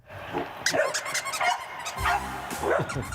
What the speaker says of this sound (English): Over 140 rescue pooches from the shelters across the U.S. are set to compete in the 21st annual Super Bowl for dogs.